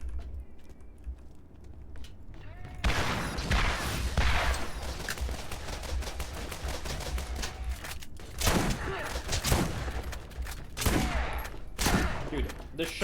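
A knockback shotgun fires in Borderlands. The blasts are loud and repeated, and they come in irregular bursts over steady game background noise.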